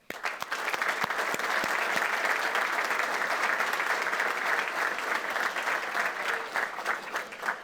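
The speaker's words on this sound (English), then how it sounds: "I'd like to give a round of applause to families as well." Dense, sustained applause from the crowd at a fire department recruit class graduation, steady and fairly even from start to finish with a few louder individual claps early on.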